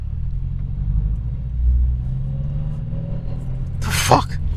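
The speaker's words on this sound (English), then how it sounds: "are you going to accelerate?" Car accelerating, a steady low engine rumble and road noise from inside the cabin that swells slightly partway through, with a brief sharp noise near the end.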